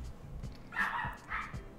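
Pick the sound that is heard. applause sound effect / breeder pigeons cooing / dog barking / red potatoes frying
dog barking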